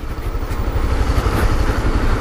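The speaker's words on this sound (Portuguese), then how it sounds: "Hernandes moto é a CB300" A Honda CB300 motorcycle engine runs steadily close by with a low, throbbing idle-like rumble and no voices.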